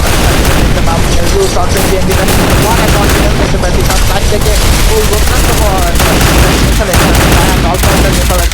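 Rapid gunfire bursts and sniper shots crackle through a battle royale tournament final match, dense and continuous with booming impacts, under excited commentary.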